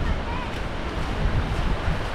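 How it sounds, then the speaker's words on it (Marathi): The Vadap waterfall near Bhimgad Fort roars in a steady, dense, unbroken rush of falling water, loud and close for the whole moment. "बऱ्यापैकी सुंदर वॉटरफॉल आहे हा"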